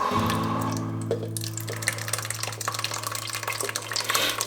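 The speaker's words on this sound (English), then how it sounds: "Stuff is splashing all over the place." Liquid splashing and sloshing in bursts under a low steady hum as fermented hot sauce mash is strained, with irregular wet spatters that grow busier toward the end.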